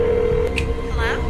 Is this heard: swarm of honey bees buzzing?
no